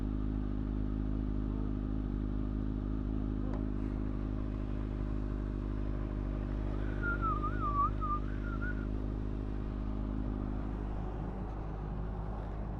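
A warmed-up new motorcycle engine idles steadily and loudly throughout, with a constant low rumble and a brief higher whine partway through.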